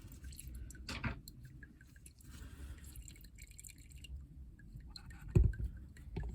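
Fuel drips from an open fuel filter housing after the filter is removed, with faint, sparse drops falling irregularly and one louder drip near the end.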